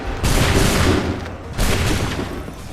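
Two loud, crackling musket volleys go off in the Assassin's Creed 3 video game, each a dense burst of many near-simultaneous shots that rumbles away before the next volley, about a second and a half apart.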